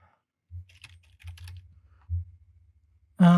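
Someone types test card details on a computer keyboard, producing several short bursts of close, crisp key clicks separated by pauses, ending in a louder tonal sound.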